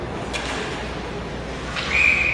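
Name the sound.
referee whistle at youth ice hockey game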